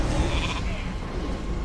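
A sheep bleat from the World of Warcraft polymorph effect, a short wavering animal cry over a dense game mix.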